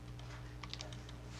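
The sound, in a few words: typing on a computer keyboard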